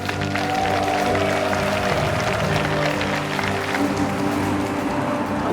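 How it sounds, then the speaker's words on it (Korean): Audience applause at an indoor Korean history rally, steady broadband clapping filling the whole stretch at an even level, with a hum of music or tones underneath. "여러분 박수로 맞이해 주시기 바랍니다."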